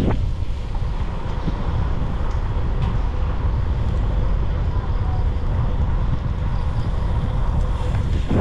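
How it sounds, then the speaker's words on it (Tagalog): Strong wind buffets the microphone while riding in light rain on a road loop through CALABARZON, a steady, loud roar with gusty rumble filling the whole stretch and no clear speech. "grabe, lakas ng hangin"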